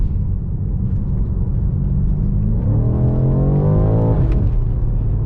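A 2018 BMW M5's twin-turbo V8 rumbles low, then rises in pitch as the car accelerates hard, followed by a brief dip as it shifts. Heard from inside the cabin.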